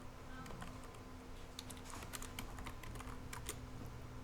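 Computer keyboard keys are pressed while working in CAD software, giving scattered light clicks in quick irregular runs over a steady low hum, with no voice.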